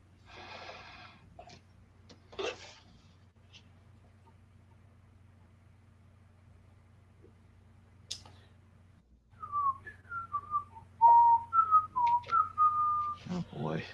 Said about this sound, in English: he's whistling the Smurfs now